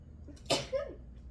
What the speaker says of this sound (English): And I'm going to sneeze, I think.